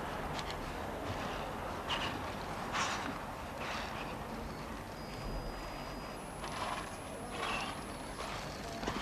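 Show-jump horse Boomerang ridden by Eddie Macken at the British Jumping Derby, hooves thudding at a canter around the bank in an outdoor arena, a steady rhythm of muffled hoofbeats under broad crowd and outdoor noise.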